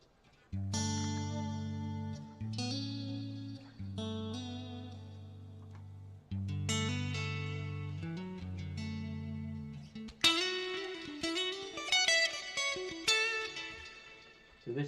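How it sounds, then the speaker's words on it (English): An electric guitar played through a Quad Cortex amp modeller on a Toxic Synths preset gives sustained synth-like chords, each ringing out for a few seconds, with a brighter, busier passage near the end and no talk. "what was the humming noise? That was me putting a little, you know, like the Toxic Synths preset that you might have seen Rabia playing through"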